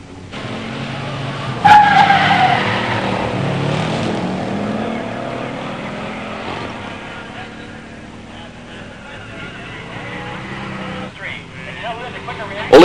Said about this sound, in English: In the far lane, Joe O'Leary, 70 Chevelle LS5 4-speed.